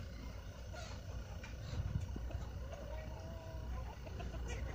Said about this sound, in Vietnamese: Hiện tại giờ gà đây ra ăn thóc các bạn này